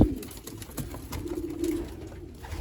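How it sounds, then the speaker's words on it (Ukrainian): Young pigeon squabs in a loft give soft low cooing and murmuring, steady and close, with faint rustling and no talk. "Це наші перші голубенята"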